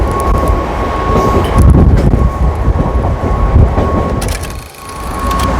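Mumbai local train running, a loud close rumble of wheels and carriage with rattling and clatter, a steady tone whining through and a brief dip before the roar returns.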